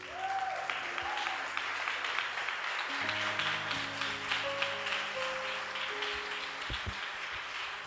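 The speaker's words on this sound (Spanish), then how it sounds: "¿Lo vamos a recibir con el aplauso?" A church congregation applauds steadily to welcome someone forward, the clapping fairly close and even throughout, while a sustained musical tone and a few voices sound underneath.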